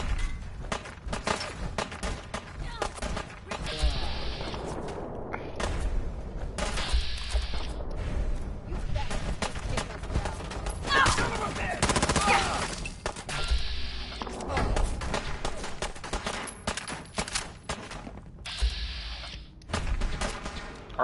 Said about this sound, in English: Are they shooting at him? That's what I want. Well, he's shooting at them.